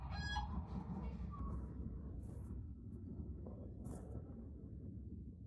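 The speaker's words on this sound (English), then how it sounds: "They're just regular chickens, right?" Cuban chickens on a farm cluck faintly at a distance over a steady low rumble of background noise, with a few brief higher calls poking through.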